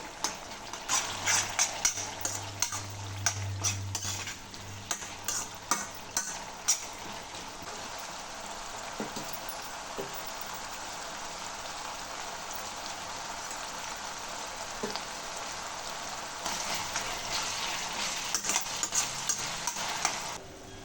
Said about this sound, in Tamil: தக்காளி வெங்காயம் நல்லா வதங்கட்டோங்க